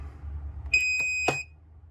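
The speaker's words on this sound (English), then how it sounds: "It does beep when you first turn it on." A single electronic beep lasting under a second, ending with a small click, over a low background hum, as a Shasta 18FQ travel trailer unit is switched on.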